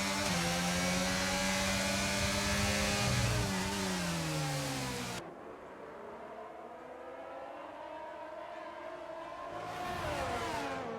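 A racing car engine at full throttle in a PC sim-racing game at Hungary, a high sustained whine that rises, drops sharply after a gear change or braking, then climbs again. It sounds steady and close, with no talk.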